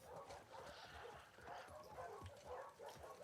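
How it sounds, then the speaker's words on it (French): Several dogs barking and yipping in The Last of Us Part II, a steady run of overlapping barks with a faint whimper, moderately loud throughout with light talk mixed in. "Regardez-moi tous ces chiens."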